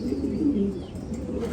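Fancy pigeons cooing in a large pigeon farm, a soft, low, throaty coo rolling up close, with faint background murmur and no talk.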